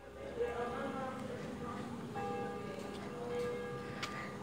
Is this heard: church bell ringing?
yes